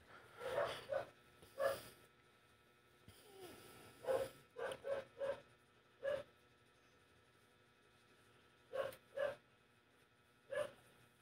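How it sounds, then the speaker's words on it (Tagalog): A dog barks repeatedly in short, sharp bursts, some doubled, scattered irregularly with pauses, heard from a distance in a quiet barbershop. "kaingay naman ang aso na yun"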